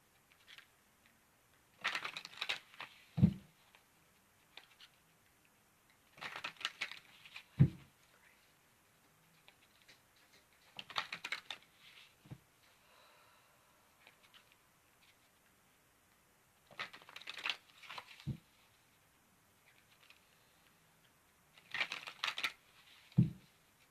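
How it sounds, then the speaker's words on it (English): A deck of tarot cards is shuffled by hand in quiet, separate bursts about every five seconds, each a soft riffle ending in a light tap, close and faint. "I'm going to set this aside and shuffle up the cards."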